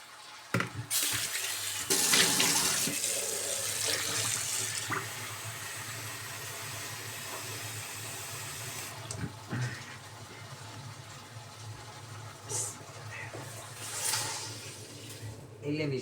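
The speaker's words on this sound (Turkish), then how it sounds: "Bir sıcak su alayım çeşmeden." Hot water runs from a kitchen tap in a steady, loud stream that softens partway through, with light clinks and faint movement around the sink.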